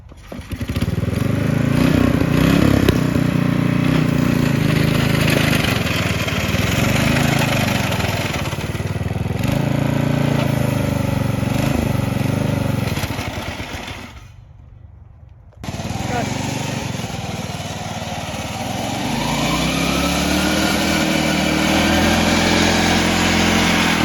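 A homemade lawn mower build's small engine runs loud and close, with a steady buzzing drone that changes pitch as it revs, cuts out briefly near the middle, then restarts with a lower idle.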